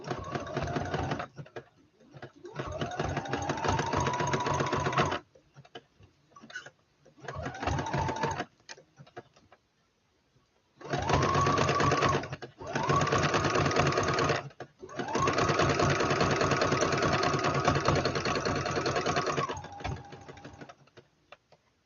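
A sewing machine stitches a memory bear with white thread, loud close rapid whirring in bursts of several seconds separated by short pauses.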